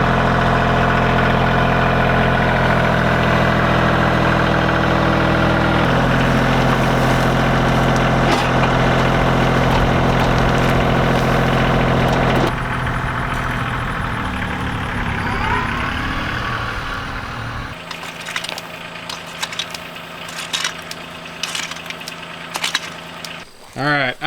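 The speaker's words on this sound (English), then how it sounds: "I'm gonna go grab the tractor and bring a couple scoops of dirt to put right there in the mud." Tractor engine running while hauling scoops of dirt to a muddy spot, a loud steady diesel drone that shifts in pitch and load, then drops to lower rumbling with clanks near the end.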